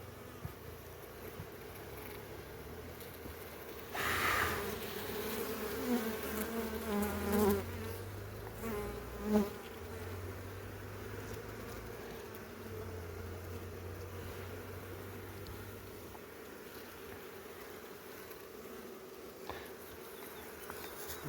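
Steady, dense buzzing of many honeybees around hives at an apiary fills the air throughout, with occasional closer passes and faint handling noises.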